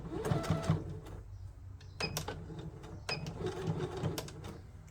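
A sewing machine runs a straight stitch on holo sequin fabric, a steady close mechanical whir with a few sharp clicks and knocks mixed in.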